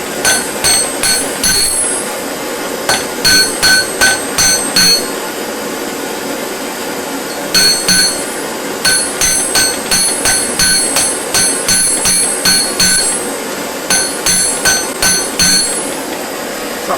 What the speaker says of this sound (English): the hammering is going to make it fall over